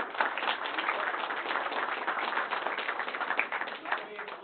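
Audience at a user group meeting applauding, a steady wash of many hands clapping for about four seconds at moderate volume, recorded thinly.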